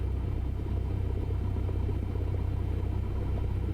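Steady, low droning hum of a Cessna 172 piston engine running at 1,000 RPM on the ground in Microsoft Flight Simulator 2020, continuous and even throughout with no talk.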